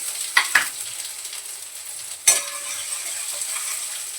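Cumin and garlic sizzling in hot oil, a steady hiss broken by a few sharp crackles and a spoon knock.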